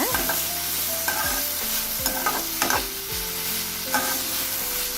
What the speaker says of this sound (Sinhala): හොඳට කලවම් කරන්න.